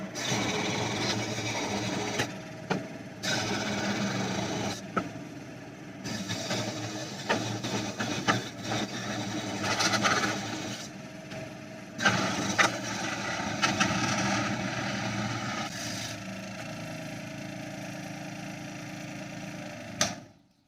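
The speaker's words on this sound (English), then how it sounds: "in order to cut the top and the bottom off, I just use my scroll saw" A scroll saw cuts the top and bottom off a wooden slingshot blank with a steady, rapid mechanical buzz, close and fairly loud. It stops and restarts several times in short breaks as it works through the cut, with no voices.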